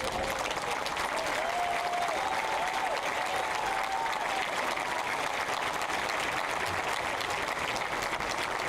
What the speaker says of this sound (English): Let's give one more round of applause for our veterans.